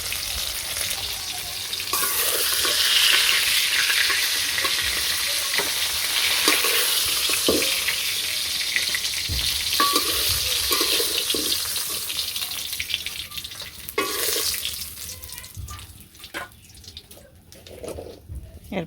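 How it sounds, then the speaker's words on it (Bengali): Fish frying in oil sizzles loudly and continuously in a pan, with occasional stirring scrapes, before the hiss thins out and gives way to scattered clatter. "এই যে মাছগুলো সুন্দর করে ভেজে নেব"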